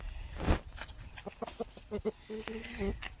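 Brahma rooster and hens in a farm enclosure with sparse grass: a loud nearby squawk, then a series of short clucks and calls, under someone talking.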